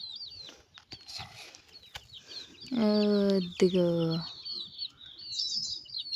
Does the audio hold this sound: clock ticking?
no